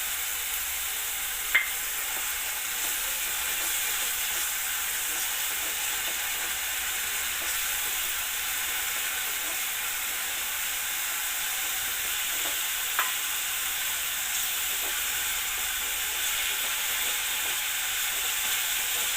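Onion with ginger-garlic paste sautéing in a pan for chole, a steady close hiss of frying under faint occasional scrapes of stirring, with no talk.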